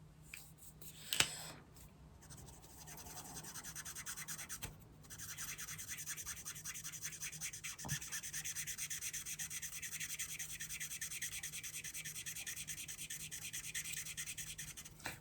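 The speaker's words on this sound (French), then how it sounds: "Vous avez le bruit du feutre sur le papier." Steady scratchy rubbing of an Action brush-tip felt marker across paper, continuous strokes close up with a few short pauses, no talking.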